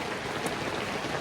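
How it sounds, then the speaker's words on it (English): Heavy rain pounds on a camping tent covered with an extra tarp, a loud, dense and steady hiss with no break and no voices. "just the noise of the rain, it's so loud."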